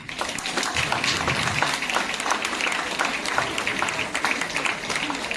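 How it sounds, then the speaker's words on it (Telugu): Loud, steady applause from a crowd of girls at a blood donors' day event in Visakhapatnam, continuous dense clapping filling the whole stretch with faint crowd murmur beneath. "కేవలం అమ్మాయిలు మాత్రమే గట్టిగా చప్పట్లు కొట్టండి ఒకసారి"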